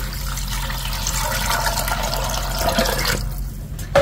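Steady pouring water into a slow cooker, a continuous liquid rush that runs for about three seconds before thinning out into quieter trickles.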